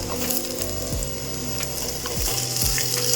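Small shallots, ginger, green chilli and curry leaves fry in hot oil for a Kerala fish head curry, giving a steady close sizzle with occasional stirring scrapes against the pan.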